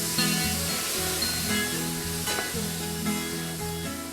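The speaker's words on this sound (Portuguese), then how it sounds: "Nós vamos adicionar um pouco da água para que ela não queime e vai dourando a carne" Meat browning in a hot pan with small splashes of water dripped in a little at a time, giving a steady, close sizzle with a few soft stirring scrapes throughout, no voices.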